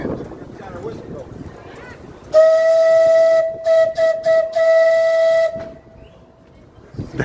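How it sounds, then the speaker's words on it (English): A loud, steady whistle blows for about three seconds, briefly stuttering partway through, after some low background chatter. "We've got our whistle going."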